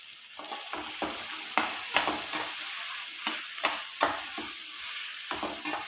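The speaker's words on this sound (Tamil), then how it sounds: "போட்டதுக்கப்புறம் அதையும் நல்லா வணக்கிக்கோங்க." Onion and tomato sauté in a pan for chow chow chutney, with a constant sizzle broken by repeated spatula scrapes and stirs at an irregular rhythm, close by and without speech.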